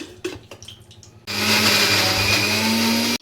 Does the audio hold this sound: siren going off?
no